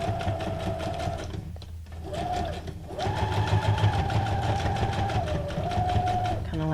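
A domestic sewing machine runs a straight stitch while making junk journal ephemera, giving a close, steady mechanical whir that starts and stops in a few bursts with short pauses between them.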